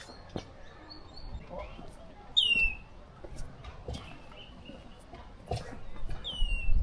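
Birds chirping amid Colombian nature, with scattered high calls and one sharp, close chirp standing out over a low outdoor background and faint murmurs.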